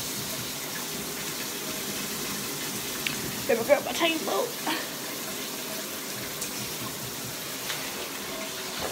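Shower water runs as a steady broadband hiss throughout, with someone talking briefly over it in the middle.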